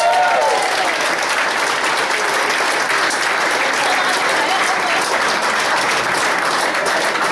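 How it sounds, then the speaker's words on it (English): Loud, dense applause from a football club's awards crowd, sustained and unbroken as players offered professional contracts are honoured. "so I think a round of applause for them"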